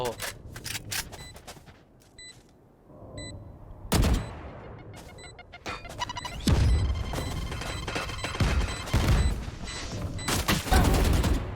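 Valorant gunfire in a match, sharp broadband shots in scattered bursts and short rapid volleys, loud and close, mixed with game effects and occasional talk.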